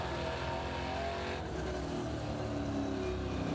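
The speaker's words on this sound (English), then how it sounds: "that fantastic soundtrack of the 400 brake horsepower V8 engine" A 400 horsepower V8 race car engine roars steadily at high revs during a race, loud and continuous, with a brief dip as it shifts before climbing again.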